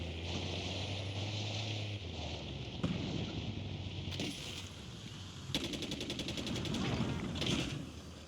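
Rapid bursts of automatic gunfire in a shooter video game, crackling through a steady bed of game ambience, with the heaviest volley arriving late and fairly close.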